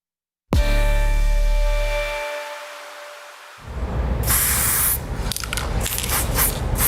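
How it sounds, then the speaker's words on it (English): Spray paint hisses from an aerosol can as an artist paints a mural. A steady, loud, close hiss fills the second half after a sustained tonal opening, with slight pulsing as the nozzle is worked. "With a can of spray paint in his hand, Mike Arguello is always right at home."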